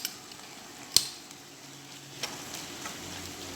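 Mustard is stirred into fish oil in a pan, with a soft steady sizzle underneath and a few sharp clinks of a spoon against the pan. The sound is close and quiet, with no talk.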